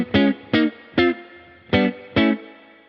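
Electric guitar with distortion and chorus effects strums five punchy major triad chords, each a short loud stab separated by brief gaps, moving in whole-tone steps.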